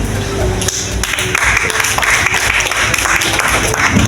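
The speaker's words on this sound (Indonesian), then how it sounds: "Beri tepuk tangan sekali lagi biar lebih meriah kepada Ibu" An audience at an Indonesian anti-narcotics awareness event in Simalungun applauds loudly and continuously, a dense wash of many hands clapping close by.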